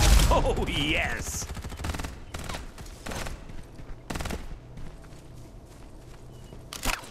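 Gunfire in the shooter Farlight 84 comes as loud repeated bursts of shots over busy game noise, with a brief voice-like sweep near the start.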